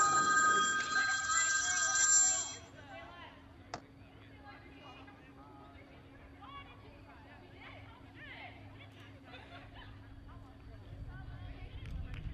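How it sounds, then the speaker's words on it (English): A mobile phone rings loudly and close for the first couple of seconds, then cuts off, leaving faint crowd babble and background noise at a UBC Thunderbirds vs SFU baseball game. "Excuse my phone from ringing again."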